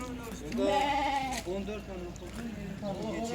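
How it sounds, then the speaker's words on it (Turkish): Lambs and goats bleat at a livestock market in Kırıkkale, a few close, wavering calls rising over a man's speech and crowd murmur. "Kuzu ve keçimizin olduğu yine bir grubumuz var."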